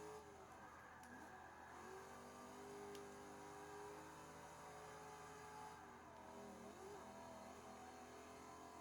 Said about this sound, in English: I don't know if you guys can hear it, but there's a little bit of blower whine.